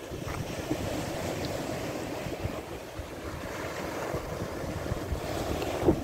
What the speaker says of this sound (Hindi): क्या लहरें हैं यहाँ पर।